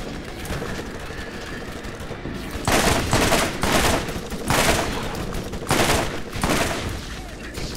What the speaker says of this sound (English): Let me try out this new shotgun I just got.